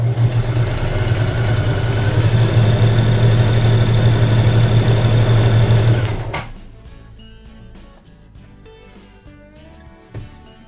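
A sewing machine runs steadily at close range, stitching through a denim jean pocket for about six seconds before stopping, followed by faint fabric handling and a small knock.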